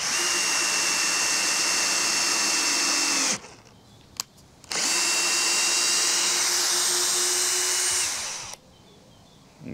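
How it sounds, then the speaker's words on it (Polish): A cordless screwdriver drives a screw in two long, steady high whirring runs, close and loud, separated by a brief pause with a short burst between them. "tym razem w ogóle bez nawet zatrzymywania, ten wkręt pojechał"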